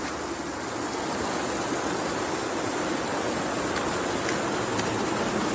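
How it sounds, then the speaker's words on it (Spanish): A swollen river in flood rushes past in a steady, loud, broadband roar of churning water, continuous and close with no break. "¿Veis cómo está el río, no?"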